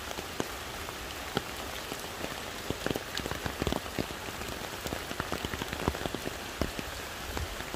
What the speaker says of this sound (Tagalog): Paligo na kami, lakas ng ulan.